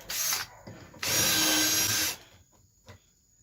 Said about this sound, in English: And my drill's dying.